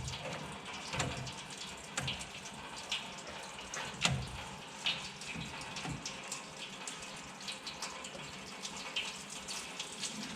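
Coolant drains from the radiator of a 1967 Ford Mustang with a 289 V8, a steady close splashing trickle with scattered knocks and clunks, no voices.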